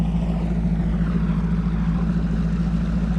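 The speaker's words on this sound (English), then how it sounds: "I'm just idling away from the boat ramp" An outboard boat motor idles steadily on Lake Martin, Alabama, a low continuous hum that holds even and close throughout with no talk over it.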